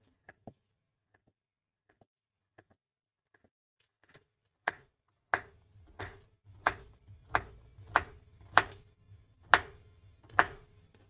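A knife dicing a carrot into small cubes on a cutting board, a few scattered taps at first, then a steady run of close, sharp chops at an even, unhurried rhythm.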